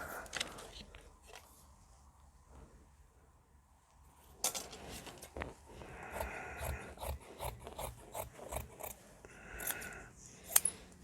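Scissors cut through suit jacket fabric in a string of crisp, close snips and rasping slices that come in quick bursts after a quiet start, with faint handling noises between the cuts.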